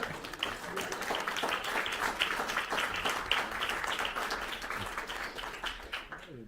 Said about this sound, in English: There's a clap there.